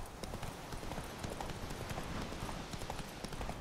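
Hooves of the horse Roach galloping in The Witcher 3: Wild Hunt, a fast continuous clatter of hoofbeats over dense background noise, steady and moderately loud with no talking.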